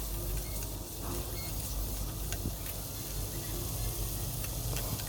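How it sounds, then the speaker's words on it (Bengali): Crabs fry in hot oil with a steady, faint sizzle and the occasional light tick of stirring, and no one speaks. "দিয়ে দিব কাঁকড়াগুলো দিয়ে আমি এগুলোকে নেড়ে চেড়ে হালকা করে ভেজে নিব"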